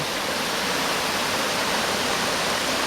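Stony Creek flowing steadily, heard from the west corner of a property overlooking the creek: a dense, even rush of water that stays constant throughout, with no voices.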